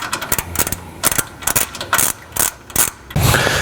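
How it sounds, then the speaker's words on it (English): A ratchet with a 17mm socket tightens a nut in quick bursts of close, crisp clicking, with short pauses between strokes and a heavier mechanical rattle at the end. "Use a 17mm socket and tighten it down."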